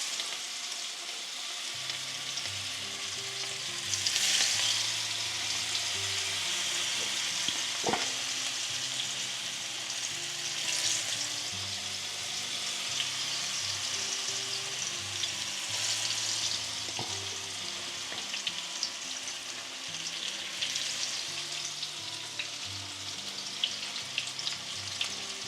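Battered sweet pepper rings fry in very hot oil with a steady, bright crackling sizzle that lasts throughout, broken by a few faint clicks and light utensil touches.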